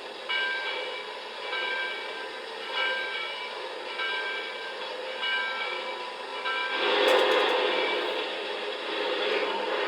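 A Lionel PRR T-1 model train locomotive running its idle sound loop with a steady hissing, mechanical hum, and a bell-like ringing joining in partway through, louder in the second half, with no talking.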